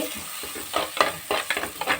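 Ground masala paste fries in a pan for a curry, stirred briskly with repeated scraping and clattering strokes over a continuous close sizzle.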